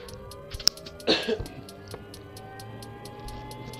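Starter for engine 1 engaging on a helicopter in the Take on Helicopters flight sim: a brief click, then a short whirring burst that fades into a quiet, steady low hum.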